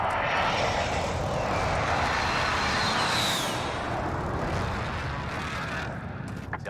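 Loud, sustained roar of an air strike aircraft flying over in the video game Warzone, a broad rumbling wash that swells and holds for several seconds, then eases slightly near the end, with no talk over it.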